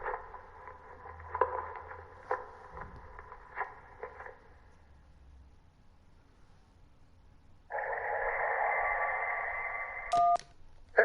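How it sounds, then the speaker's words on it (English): A phone ringing underwater in the video game Kentucky Route Zero: muffled, warbling ring bursts pulse in an uneven rhythm, fade into near silence, then a louder steady muffled ring returns and cuts off with a sharp tone. "That was a phone ringing underwater."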